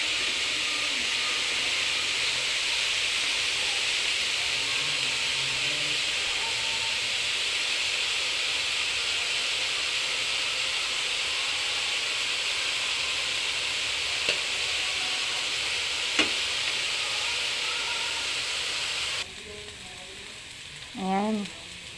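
Bitter gourd sautés in a hot pan with a loud, steady sizzle and hiss that fills most of the time. Near the end it drops off into quieter handling sounds.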